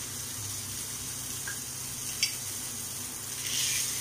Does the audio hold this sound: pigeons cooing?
no